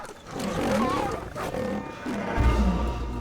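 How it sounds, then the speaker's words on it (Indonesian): A lion pounces on its prey at dusk in a film scene and lets out a loud, close, sustained growling roar. A deep rumbling thud follows near the end. "seekor singa menerkam hewan buruannya."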